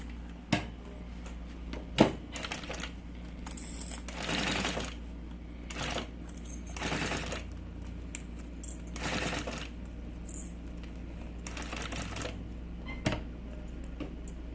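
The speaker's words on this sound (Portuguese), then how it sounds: "agora a gente vai costurar" A sewing machine stitches a triple pencil case in short bursts of running, separated by pauses filled with sharp clicks and handling knocks at close range.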